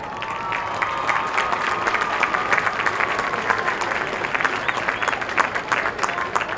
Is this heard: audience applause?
yes